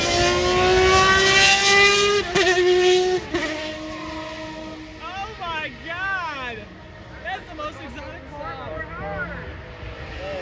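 A Ferrari 333 race car drives past on a racetrack, its high-pitched engine note sweeping loudly by, then fading as further revving passes echo in the distance.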